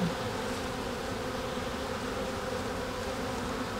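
A honeybee colony hums with a dense, continuous buzz, steady and moderately faint throughout, with no voices over it.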